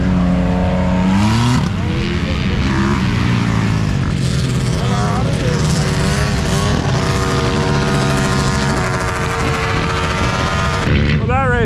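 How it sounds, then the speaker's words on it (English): Tesla trucks race on a racetrack cut into a cornfield, loud engines and tyre roar filling the scene continuously with rapid crackling bursts, up close throughout. "We got a Tesla truck racing out here."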